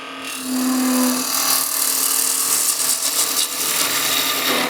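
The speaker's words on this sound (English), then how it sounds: "I'll go ahead and make a peeling cut" A wood lathe makes a peeling cut on a spinning top blank: a continuous scraping hiss of the tool on turning wood, with a brief tonal hum near the start, fairly close and steady.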